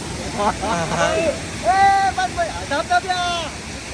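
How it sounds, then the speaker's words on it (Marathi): A small waterfall rushes in a steady broadband roar outdoors. People talk loudly over it throughout. "असा हा धबधबा पडतो"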